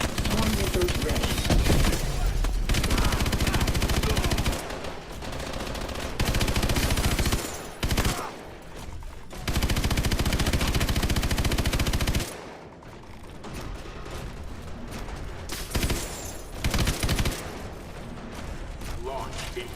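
Mech main guns firing in the Call of Duty: Advanced Warfare campaign, a dense continuous roar of heavy automatic fire with mechanical whirring, sustained for long stretches and briefly broken by short pauses.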